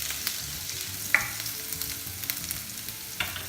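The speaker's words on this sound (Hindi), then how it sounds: "उसको हल्के सा सौटे कर लेंगे और अब इसमें डाल देंगे जिंजर और गार्लिक" Ginger and garlic sautéing in oil in a pan for palak matar malai, a steady soft sizzle with occasional spoon taps and scrapes, close and fairly quiet, with no talking.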